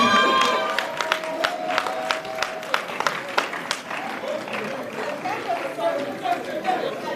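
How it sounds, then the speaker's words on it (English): An award-ceremony audience applauds a winner with steady, dense clapping from a crowd, a few louder claps standing out and light chatter mixed in. "Please give him a warm round of applause."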